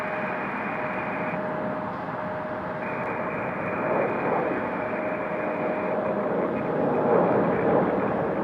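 A United Express airliner taxiing at Raleigh-Durham International Airport gives a steady jet engine drone with a faint high whine, continuous and moderately near, swelling slightly toward the end, with no talk.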